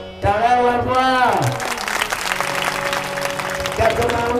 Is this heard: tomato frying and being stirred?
no